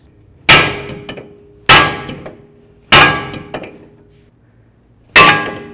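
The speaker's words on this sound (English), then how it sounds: "use your little hammer and give this a bonk right along here" Four loud metallic clangs from a hammer striking a front lower ball joint on a Dodge Charger control arm, spaced about a second apart with ringing decay, the last after a longer pause.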